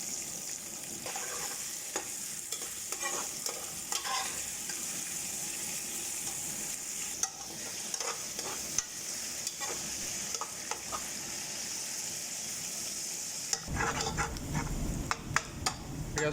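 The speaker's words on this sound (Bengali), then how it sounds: "পেঁয়াজটাকে ভালো মতো সতে করতে হবে, ব্রাউন করতে হবে।" Onions sauté in hot oil with star anise, giving a continuous soft sizzle punctuated by frequent light spatula scrapes and taps, louder and busier toward the end.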